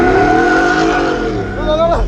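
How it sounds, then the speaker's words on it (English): A car at a car show does burnouts and donuts, with a loud engine revving hard and tires squealing. Voices talk over it throughout. "Y'all wouldn't hear none while they was doing burnouts"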